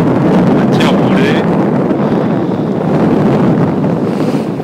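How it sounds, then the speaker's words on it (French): Strong wind of about 20 knots roars steadily across the microphone while sailing a Swan 44 yacht under mainsail and staysail, with rushing water and hull noise beneath and a brief voice near the start. "20 nœuds de vent. Ça attaque."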